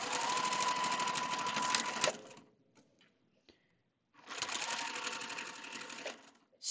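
A sewing machine stitches a Shoo Fly quilt block, running in a steady loud whir for about two seconds, stopping through a few faint clicks, then starting again for a second run.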